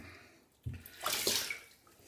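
Water splashes and sloshes as a hand scoops it from a basin for a wet shave with a 1940s Gillette Tech safety razor, a brief soft swish followed by a louder watery churn, close by with no talk.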